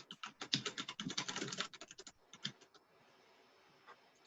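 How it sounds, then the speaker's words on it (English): Rapid keyboard typing on a computer during a live NHL draft broadcast, a dense burst of close clicking keystrokes for about two seconds that then thins to a few scattered taps before falling quiet. "I need to remember to mute my mic while I'm typing."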